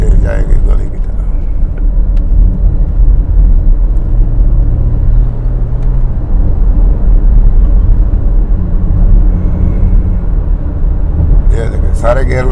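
A car with an automatic gearbox is driven while being tested for a P-to-D shift problem, its steady low engine rumble continuous and fairly loud throughout, with a brief higher whine in the middle and faint noises near the end.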